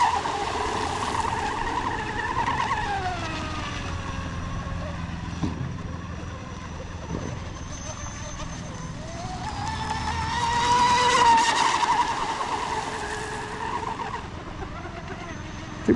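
An RC boat named Pearl with a Spectrum 2400kv motor runs at full throttle on the water, a high whining motor that rises and falls as it carves turns, fairly close and steady across the whole stretch, with a voice talking over it.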